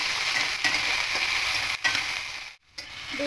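Eggplant and yardlong beans fry in hot oil while being stirred for a potato curry, giving a steady close sizzle with light scraping and clicking stirs throughout.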